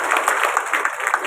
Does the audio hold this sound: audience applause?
yes